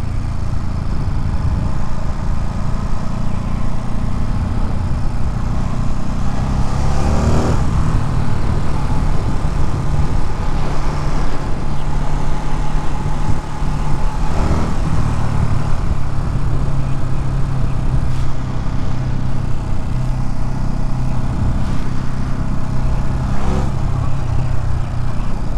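Motorcycle engine droning steadily while riding on winding roads between the 9W Market and Palisade, loud and close throughout with wind rush and no talk.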